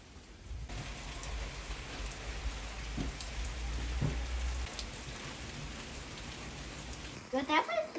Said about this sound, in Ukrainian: Вчора було сонячно, а сьогодні, бачите, вже дощик.